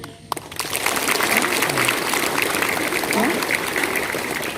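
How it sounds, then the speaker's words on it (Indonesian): A classroom audience at a vocational school claps in a dense, steady wash of applause that starts abruptly and carries on loud and close, with a voice speaking faintly underneath. "Tepuk tangan dong."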